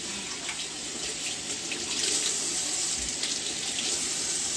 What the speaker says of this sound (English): So we rinse the plate, the onions,